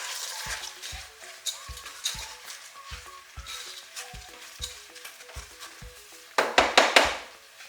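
Rice is stirred in a hot pan for vegan vegetable rice, with a steady sizzle under rhythmic scraping and knocking of the spoon against the pan. It grows louder and busier near the end.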